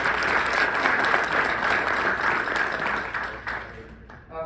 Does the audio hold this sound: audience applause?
yes